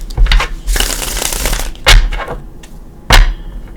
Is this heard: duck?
no